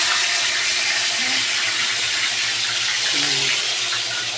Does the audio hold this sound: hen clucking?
no